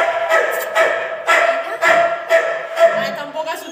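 Small female shelter dog missing one leg, amputated, barking in a rapid series of sharp yips and bow-wows at close range, with a voice speaking at times.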